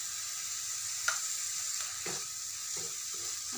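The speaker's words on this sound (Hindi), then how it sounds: "हमें लगातार हमें इसे चलाते रहना है" Spice masala with tomato and garam masala frying in a pan for a chana dal and brinjal curry, a steady hiss of sizzling oil broken by several soft spoon taps and scrapes as it is stirred, no speech.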